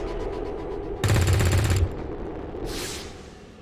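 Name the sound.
gunshots in a video game (XCOM)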